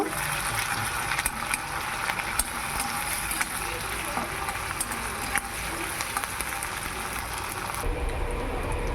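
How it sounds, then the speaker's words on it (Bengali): Green chili, onion and ginger-garlic paste fry in hot oil in a pan, a dense continuous sizzle with light crackles and occasional stirring scrapes, close by and fairly even in level. "কাঁচা লঙ্কা একটু আদা রসুন বাটা এবার ভালো করে ভেজে নেব"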